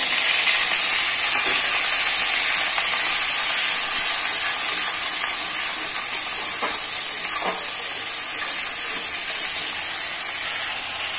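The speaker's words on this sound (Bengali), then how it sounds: "এবারে আদা পেঁয়াজ বাটাটা দিয়ে দেবো।" Ginger-onion paste hitting hot oil in a pan already holding cardamom and bay leaf, giving a steady loud sizzle and hiss throughout, with a few faint clicks of a utensil and no talking.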